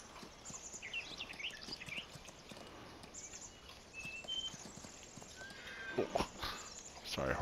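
A horse in Farming Simulator 19 lets out a whinny and hoof sounds over a quiet farm ambience with faint bird chirps, the neigh rising mid-clip and a louder burst of activity near the end.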